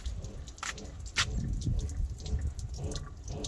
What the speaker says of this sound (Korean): 물 받으면서 세탁기 돌리는 중.